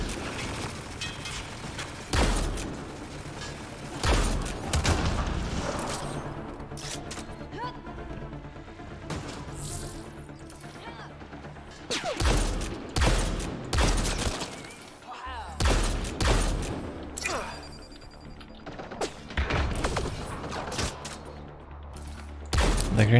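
Repeated grenade blasts and bursts of gunfire in a Mass Effect Andromeda fight come as loud booming hits spaced through the combat, with weapon clatter and mechanical clicks between them.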